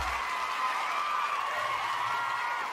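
Applause sound effect played during a live stream, a steady wash of clapping from a crowd that holds at an even level for the whole stretch with no talk over it.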